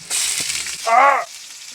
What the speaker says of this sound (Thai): โอ้น้ำมันเดือดใช่ย่อยเลยนี่